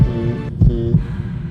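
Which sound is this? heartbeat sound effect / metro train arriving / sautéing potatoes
heartbeat sound effect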